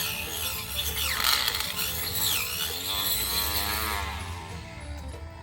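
A small motorized grass trimmer whines steadily at close range as it cuts grass, its pitch shifting slightly as it cuts, continuous buzzing throughout.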